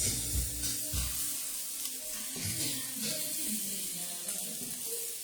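Beef strips sizzle in a pan with vegetables for a stir-fry, a soft, steady frying hiss with a few low thumps and clatters from stirring near the start.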